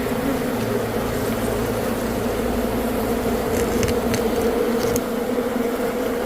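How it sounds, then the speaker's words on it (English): Constant, loud droning buzz of a full hive of killer bees close by, a dense steady hum with a few faint clicks and rustles over it and no talk. "Wow, killer bees."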